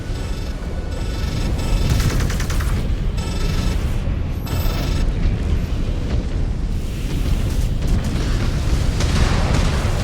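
A mech being destroyed in Mechwarrior 5: Clans, with heavy rumbling explosions and crackling fire blasts rolling on for several seconds, loud and dense throughout.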